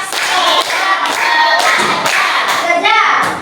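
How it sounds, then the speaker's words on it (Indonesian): Rhythmic hand clapping in a small classroom-style session, counted clap patterns from one to four, with several loud, close bursts of claps separated by short pauses and a voice faintly mixed in. "Ya, tepuk 1, tepuk 2, tepuk 3, tepuk 4."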